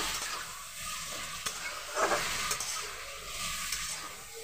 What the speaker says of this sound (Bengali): আদা রসুনের পেস্টটা দিয়ে নাড়াচাড়া করে নেবো একটু